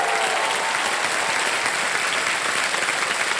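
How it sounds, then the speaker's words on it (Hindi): Thick, sustained applause from a studio audience on a televised quiz show, loud and even from start to finish, with no voices over it. "एक बार फिर तालियां बज जाए इनके लिए"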